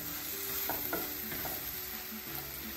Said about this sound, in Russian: Дожидаемся, когда грибы подобжарятся.